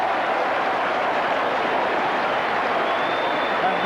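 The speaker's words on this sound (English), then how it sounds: "the Saints supporters in a very memorable weekend are on their toes and applauding loudly for that great piece of play" Saints supporters at a 1987 Australian football match applaud loudly after a great piece of play, a dense, steady wash of clapping and crowd roar that holds at full strength with no breaks.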